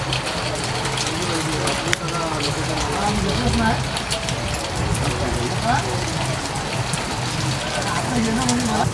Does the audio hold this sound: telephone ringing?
no